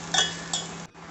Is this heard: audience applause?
no